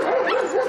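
An excited dog at an outdoor dog running event gives a drawn-out, wavering whine-like yelp, close and fairly loud, rising and falling in pitch for the whole moment without any speech.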